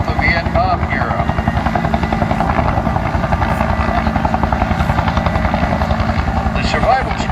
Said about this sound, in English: The helicopter is a uh-1 Huey.